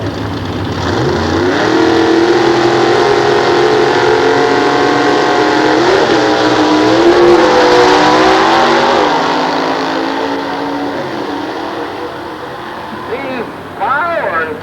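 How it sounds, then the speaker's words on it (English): A nostalgia drag racing car with a 460-cubic-inch big block Chevrolet engine roars loudly down the Sears Point quarter mile in 1993. The engine climbs through sustained revs, holds a heavy drone, then fades away. "460-inch big block Chevrolet"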